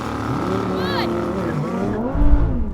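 A Lamborghini Huracan, Audi R8 and Nissan GT-R launching in a drag race: high engine revs rising and falling, then a loud, low surge as the cars pull away, with a voice talking over the engines.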